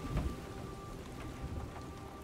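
Soft, steady rainfall in the video game Silent Hill 2 patters faintly and continuously, with a quiet low rumble underneath and no voices.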